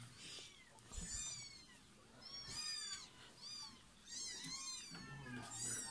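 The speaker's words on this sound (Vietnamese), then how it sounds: "Ôi, đây là mấy con mèo này." Three cats inside an old traditional house meow again and again, with high rising and falling cries overlapping in clusters, fairly close over a faint room background, and a person speaks at times among them.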